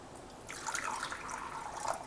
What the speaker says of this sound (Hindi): और पानी डाल के